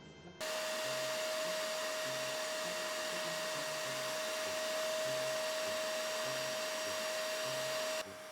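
A Shark StainStriker carpet cleaner runs its suction on spilled lemonade, starting abruptly and producing a steady, even motor drone with a constant whine that holds for about eight seconds before cutting off.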